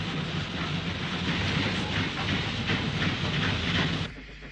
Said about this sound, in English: An unidentified Stannyer mogul hauls a freight in the other direction.